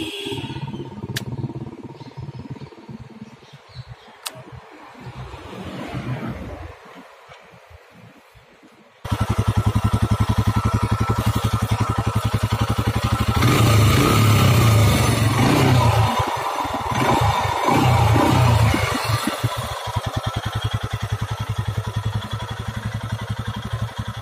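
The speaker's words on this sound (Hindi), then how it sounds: "एग्जॉस्ट नोट की बात करें तो वो आप ये सुन लो" A Royal Enfield Himalayan BS6 motorcycle exhaust note, starting as a quieter irregular idle with clicks, then suddenly rising to a louder, steady, close thumping rumble that swells and eases over about fifteen seconds, with no talk.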